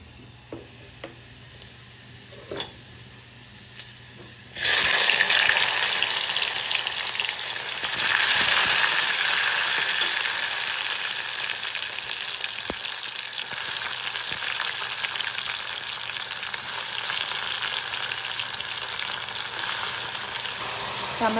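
Tomatoes hit a pan of frying garlic for a curry, and the quiet background suddenly bursts into a loud, dense sizzle that stays strong and steady, easing only slightly as the frying continues.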